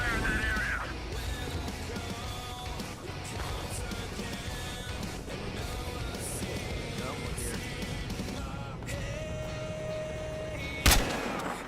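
Gunfire in the video game Battlefield Hardline, with an AWM sniper rifle in use: sharp shots and bursts over a busy battle soundscape, capped by one loud close crack near the end.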